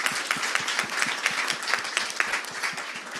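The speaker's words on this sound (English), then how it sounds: "a round of applause for that too" A conference audience applauding, a short burst of dense, even clapping from many hands that stays steady and fairly loud throughout.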